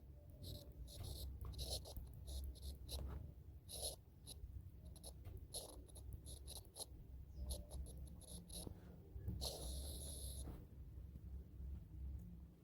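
Chalk or a marker scratches across a classroom board in short, irregular bursts of faint scraping and tapping, with a longer stroke near the end, over low background rumble.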